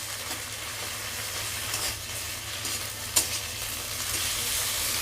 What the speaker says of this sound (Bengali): আদাটাকে আমি একটু ভেজে নেবো ওই পেঁয়াজ আর আদা একসাথে মিক্স করে